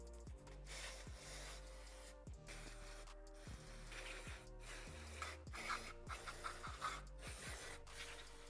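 A gasket scraper works over the sealing surfaces of a Kawasaki KX100/KX85 cylinder in a series of close, rhythmic scraping strokes with brief pauses between them. The strokes are fairly quiet and there is no talk.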